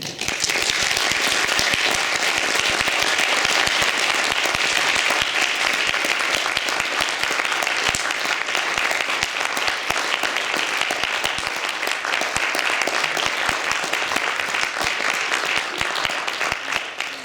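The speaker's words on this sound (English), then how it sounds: "please join me in one final rapturous round of applause for Professor Julie Hulme" A lecture audience gives a long, sustained round of applause for Professor Julie Hulme at her inaugural professorial lecture, dense even clapping from many hands lasting well over fifteen seconds without a break.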